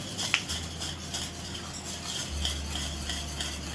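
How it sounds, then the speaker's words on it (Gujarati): A spoon scrapes and stirs a thick yogurt masala in a pan on high heat, with soft repeated strokes over a faint sizzle and low hum. "આપણે થોડીક વાર ગેસ ફાસ્ટ કરી દઈશું અને આને હલાવી જ રાખશું"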